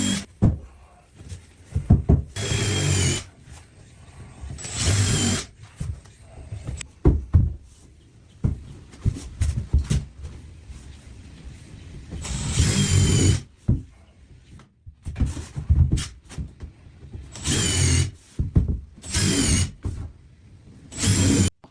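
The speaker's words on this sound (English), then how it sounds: "The wooden floor planks are being permanently attached to the frame using a drill machine" Power drill bursts driving fasteners through wooden floor planks into the frame of a traditional Japanese house, several short whirring runs separated by pauses and knocks of wood being handled, close and fairly loud.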